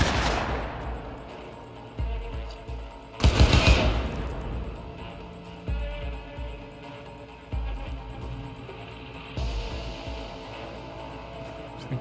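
Gunfire in the Cyberpunk 2077 video game: a burst of rapid automatic shots followed by spaced single booming reports with short decays over a low, steady game ambience, no talking.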